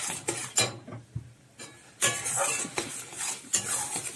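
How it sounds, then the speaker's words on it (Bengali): Prawns with salt and turmeric stirred in a pan, a utensil scraping and clinking against the metal in uneven strokes over a soft sizzle, close and alone without talk. "নুন হলুদ দিয়ে ভালো করে আবার নেড়ে চেড়ে নেবো।"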